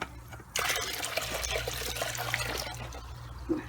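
Water poured into a mixture and stirred, a soft close trickle and sloshing that starts abruptly and continues faintly, with a light clink near the end.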